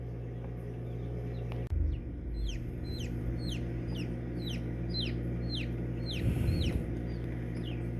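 High, bright peeping chirps repeat in quick rapid bursts from a newly hatched baby chick, close and clear above a low hum, with a brief rustling thump early on.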